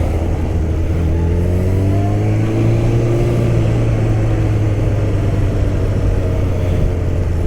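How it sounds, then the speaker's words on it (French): Heavy Suzuki Bandit motorcycle without ABS on the move, a loud, steady engine drone with rising and falling pitch as the rider shifts and accelerates, mixed with constant wind rush. "Une moto qui est lourde mais qui me reste malgré tout maniable."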